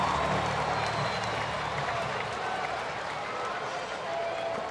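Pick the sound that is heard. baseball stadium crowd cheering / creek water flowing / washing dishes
baseball stadium crowd cheering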